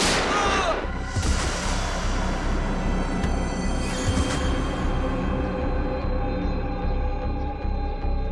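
Heavy gunfire with loud booming blasts rings out, one big bang opening into a rumbling, echoing barrage that decays over several seconds, with a brief voice mixed in.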